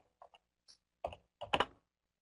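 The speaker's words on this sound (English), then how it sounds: "I'm typing in the darn J." A few scattered keystrokes on a computer keyboard, quiet taps followed by a quick cluster of louder clicks, with no talk.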